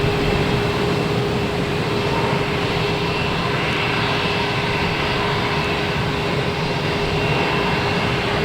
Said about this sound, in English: next taking off is Delta, ME-175, heading to LaGuardia